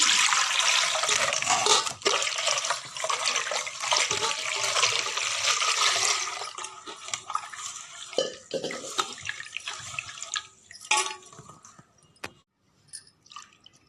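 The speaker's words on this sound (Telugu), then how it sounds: "నెక్స్ట్ కొంచెం వాటర్ కలిపేసేద్దాం" Water is poured into a tamarind soup mixture, a rushing pour for about six seconds that thins into scattered drips and small splashes.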